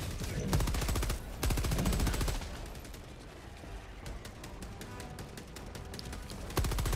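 Heavy automatic gunfire from Helldivers 2 rattles in loud rapid bursts near the start, then continues as steady fainter shooting to the end, with no talking.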